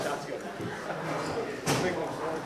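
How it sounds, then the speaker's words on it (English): A door thuds shut with a single dull bang in a large room, amid a murmur of voices and background chatter. "Somebody grab the door, please, pull it shut."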